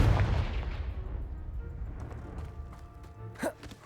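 A booming magical blast from the Confringo spell in Hogwarts Legacy breaks a pile blocking a stairwell, starting with a loud burst and then a rumbling, crumbling decay, with a small crash near the end.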